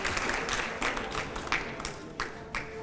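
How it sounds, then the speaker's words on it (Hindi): A studio audience at a televised panel with a politician and five editors breaks into steady clapping, with louder bursts of applause recurring at roughly half-second intervals. "जोरदार तालियां"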